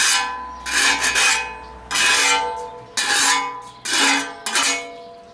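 Burnt oil residue is scraped off a BBQ fire disk in four or five loud, separate rasping strokes with short pauses between them, and no one speaks.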